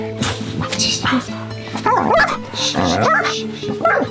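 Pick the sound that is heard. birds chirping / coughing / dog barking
dog barking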